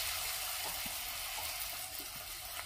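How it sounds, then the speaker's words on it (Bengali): Atta luchi frying in hot oil, a steady broadband sizzle and crackle with faint bubbling pops, continuous and close, no talking. "এখন অনেকগুলোই লুচি ভাজবো।"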